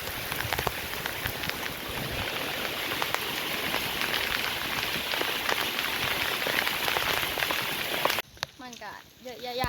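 Steady rain pattering on a surface, dense and close, with a brief break near the end where a voice and other sounds come through.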